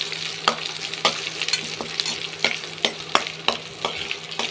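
Black urad dal roasting in oil in a pan, a steady close sizzle of frying lentils broken by regular sharp scrapes of a stirring spoon, with no one speaking.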